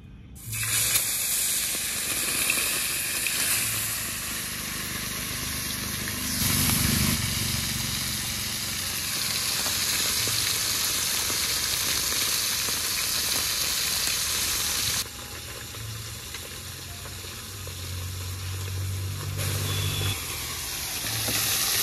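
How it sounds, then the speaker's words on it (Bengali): Bata fish frying in a pan of hot oil, a steady loud sizzle and hiss that runs without a break throughout, with brief changes in intensity and some low bubbling underneath. "তেল তো আগেই গরমে বসিয়ে দিয়েছি, এবার মাছগুলো ভেজে নেব।"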